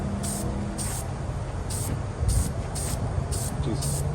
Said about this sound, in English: I'm going to be in the spray.